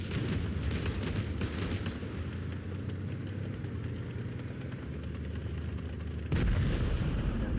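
An ARL tank fires its main gun in a tank battle video game, a single loud booming shot near the end. Before it comes steady rumbling engine and battle noise, with a few sharp cracks early on.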